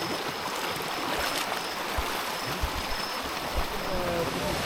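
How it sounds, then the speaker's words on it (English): Fast mountain stream on the Kokoda Trail near the Isurava War Memorial, rushing water making a steady broadband wash close by, with a few brief voices over it. "The mountain stream before we reach the Isurava War Memorial"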